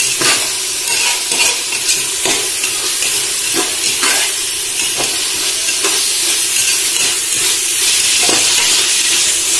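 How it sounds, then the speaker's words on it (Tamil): Ginger garlic paste sautéing for mushroom biryani: a steady, loud sizzle and hiss with regular spoon scrapes against the pan, continuous throughout with no voices. "இஞ்சி பூண்டு பேஸ்ட் போட்டு நல்லா வதக்கணும்."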